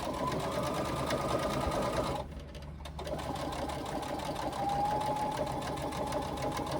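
A sewing machine runs steadily, stitching across the bottom of a fabric pouch. Its close, rapid needle chatter pauses briefly about a third of the way through and then resumes without break.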